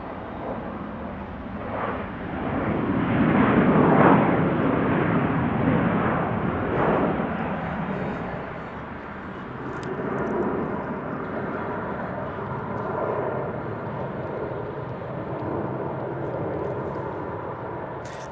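Jet airliners arriving at Salt Lake City airport, a broad distant roar that swells loudest early on and then fades to a steady rumble, heard outdoors with no talk.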